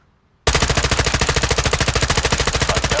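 M4 rifle fire with recoil in the video game Modern Warfare 2 beta: after a short silence, a loud, continuous full-auto burst of rapid, evenly spaced shots runs to the end.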